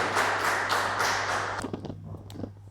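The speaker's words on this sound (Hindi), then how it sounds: "एक बार इनके सम्मान में जरूर तालियां हो जाएं" An audience at a Hindi-Urdu poetry event claps for a guest, with dense applause that thins out and fades into a few scattered claps and faint room noise.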